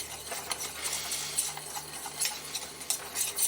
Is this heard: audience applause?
no